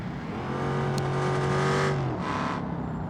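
A race car engine in BeamNG.drive climbs steadily in pitch as it accelerates hard on a tarmac hill climb, then drops off, with a brief whoosh afterward; loud and close, with no talking.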